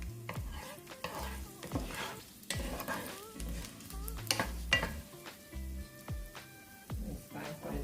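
Garlic sizzles in hot oil with steady frying crackle, broken by repeated clinks and scrapes of stirring and a few short tonal clatters of utensils against the pan.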